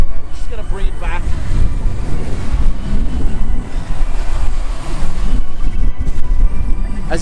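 Gusty, cold wind roars and buffets an outdoor microphone during a drone flight, a loud, rumbling low-frequency rush with surges and lulls; a voice talks intermittently over it.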